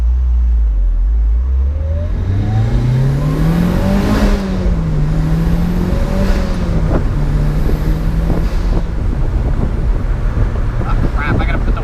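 Mitsubishi Evo 9 engine accelerating hard from inside the car, revs sweeping up and down through gear changes, loud and close under heavy wind and road rush.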